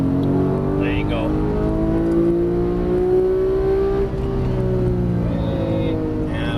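A Porsche 991 GT3 race car driven on a track at Exotics Racing Las Vegas, its engine droning loud and close from inside the cabin, pitch rising and falling through the gears, with a voice talking over it.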